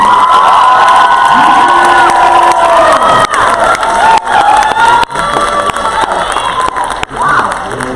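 Loud audience cheering, whooping and clapping at a first annual poetry slam awards moment, excited young voices shouting over a continuous roar of applause close by.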